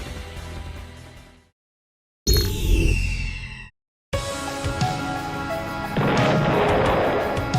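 ULTRAKILL combat effects: booming gunshots and blasts with whooshes and crashes, loud and dense, broken by two brief silent gaps.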